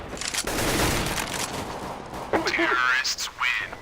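Gunfire in Counter-Strike: Global Offensive, a quick burst of shots early followed by sharper cracks and metallic clatter, with a voice talking over part of it.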